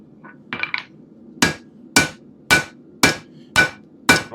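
Steel heated to about 800 degrees is forged into a bending claw hook. A few light taps come first, then six loud, ringing hammer blows fall at an even, unhurried pace, with no voices.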